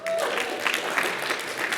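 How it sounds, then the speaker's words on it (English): Applause from an audience at a live research slam event, a short dense wash of clapping over the room's murmur. "Clap it up."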